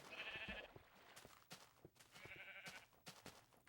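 Sheep bleating in the Minecraft video game, two wavering bleats about a second apart each time, moderately loud over a busy background of game sounds and soft thumps.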